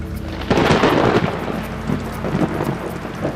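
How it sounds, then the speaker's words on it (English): A sudden rainstorm breaks over a river with a heavy thunder rumble that swells and fades, backed by the constant hiss of rain beating the water's surface. "The surface of the river seemed to boil, churned up by the falling rain."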